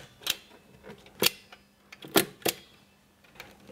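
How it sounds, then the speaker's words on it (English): A hand or hammer stapler fixes bird net onto a flexible net frame along the bottom edge, giving about four sharp, close staple snaps at irregular intervals with faint clicks between them and no talking. "we're now going to staple in across the bottom before we cut the net to shape"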